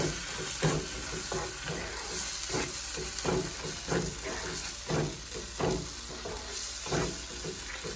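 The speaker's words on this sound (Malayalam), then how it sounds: "ഇത് നന്നായിട്ട് ഇളക്കി കൊടുക്കുക" Curd being stirred into an onion-tomato masala frying in a pot for chicken biryani, with a steady sizzle and hiss under repeated scraping strokes of a spoon, close and moderately loud, no talking.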